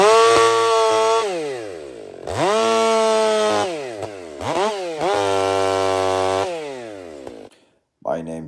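A Stihl MS500i chainsaw cuts wood with loud, close engine whine rising and falling through several revving cuts, ending in a brief pause and a short final rev.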